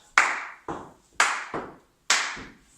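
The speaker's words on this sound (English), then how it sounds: "Claps." Sharp hand claps ring out during a line-dance lesson to "It Ain't My Fault", a handful of loud, evenly spaced claps in a bright, echoing room with short decays and no talk.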